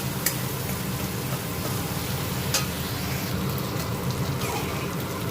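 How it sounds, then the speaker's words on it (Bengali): A ginger and green chili paste fries in oil in a karahi, giving a steady crackling sizzle at moderate loudness with a few sharper spits, close by and without talk. "আমি আদা আর লঙ্কা পেস্টটা তেলের মধ্যে দেবো। এবার এটা একটু ভাজা ভাজা হবে।"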